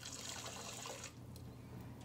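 Hot water poured into jello mix in a home kitchen, a soft liquid splash and trickle for about a second before fading to a quiet low hum.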